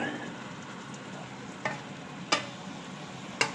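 Faint steady sizzle of pork frying in a pan as cauliflower goes in, with a few sharp scrapes and clinks of stirring.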